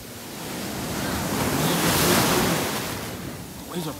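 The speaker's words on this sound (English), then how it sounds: "The waves are pretty hard, huh?" Ocean waves crash on a beach at night, one broad swell of surf rising to a loud roaring peak then receding into a softer wash, close by, with wind noise on the microphone.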